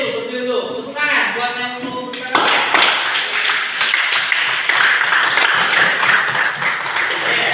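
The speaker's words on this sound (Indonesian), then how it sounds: "Tepuk tangan buat yang mau beri tanggapan." A classroom of students breaks into lively applause for a classmate, starting after a few seconds of talking and continuing as a loud, busy patter of many hands.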